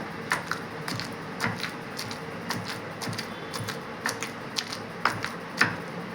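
Irregular sharp thuds repeat close by, a pestle pounding garlic in a stone mortar for raw mango chutney, spaced unevenly with quiet gaps between strikes.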